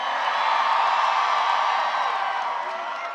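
A large outdoor crowd at a Bernie Sanders rally in New York's Washington Square Park cheers and whoops, a broad sustained roar that holds steady and then eases slightly toward the end.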